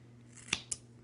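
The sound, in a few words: scissors cutting My Little Pony doll hair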